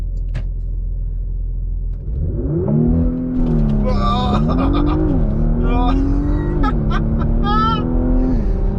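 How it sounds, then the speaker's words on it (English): A Porsche Macan Turbo in Sport Plus launches hard with launch control: after a low idle, the engine surges into a loud rising roar, climbing through several gear shifts up close from inside the cabin, with a voice briefly heard. "Sport Plus, hard on the brake, them should just be able to go straight to the floor, and it should automatically do launch control."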